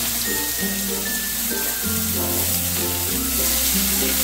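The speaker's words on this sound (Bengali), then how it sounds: "পেঁয়াজটাকে একটু ভালো করে ভেজে নেব।" Chopped medium onion frying in hot oil with tempered spices in a pan for fish-head moong dal, giving a steady close sizzle with some stirring throughout.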